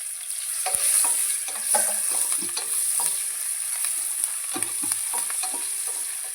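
Lengthwise-sliced onion fries in a pan with a bright, continuous sizzle broken by repeated scraping stirs of a spatula. No one speaks.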